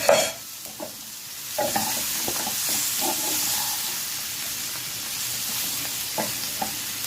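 Sausage pieces cook in a pan for a pasta dish, with a steady frying sizzle and hiss throughout and several light scraping stirs and knocks scattered over it. No voices are present.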